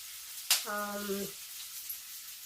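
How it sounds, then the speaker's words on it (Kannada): Onions fry in a pan with a steady bright hiss, opened by a sharp clatter and briefly joined by a short tonal squeal. "ಈರುಳ್ಳಿ ಸ್ವಲ್ಪ ಫ್ರೈ ಆಗಲಿ."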